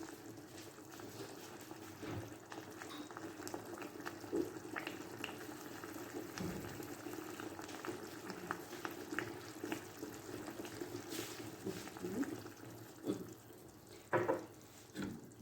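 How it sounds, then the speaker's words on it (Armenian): A coffee cup of water hitting a hot pan of green beans, a steady bubbling sizzle with scattered pops and clinks, fairly quiet and with no talking. "ես կավելացնեմ մի քիչ ջուր"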